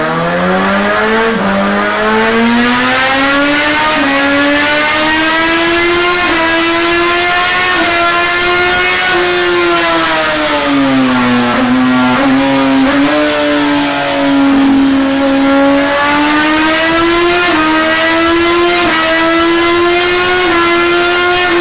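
A 2017 Suzuki GSX-S1000 motorcycle with a remapped ECU runs on a dyno. The engine revs loudly and continuously, its pitch rising and falling through long sweeps with no voices.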